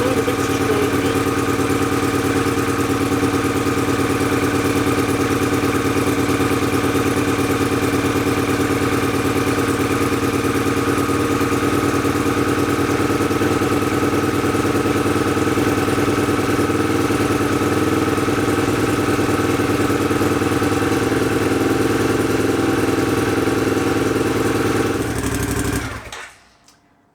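A Honda CX500 motorcycle engine idles steadily and evenly during carburettor tuning, a close, continuous mid-pitched drone that runs unbroken for about 25 seconds before cutting off abruptly.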